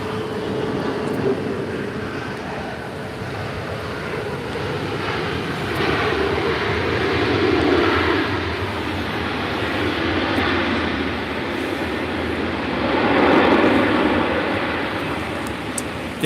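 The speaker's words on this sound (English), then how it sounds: "This is Spirit Airlines Flight 1719 coming in from Las Vegas on an A320." Spirit Airlines Airbus A320 arriving from Las Vegas and landing at LAX, a broad sustained jet roar that swells and fades in waves over a constant rumble, fairly loud and steady throughout.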